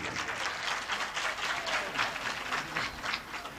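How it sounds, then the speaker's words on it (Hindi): An audience claps steadily together at a Hindu religious discourse on the Ramayana in Bhilai village, a dense, even patter of applause that holds for several seconds with no voice over it. "कर से एक बार ताली बंद थे सबके लिए"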